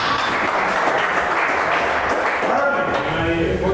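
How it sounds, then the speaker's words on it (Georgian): An audience applauds steadily at an award ceremony for field dog trial winners, a dense even wash of clapping from a crowd that holds at constant loudness throughout. "ტაში მეგობრები"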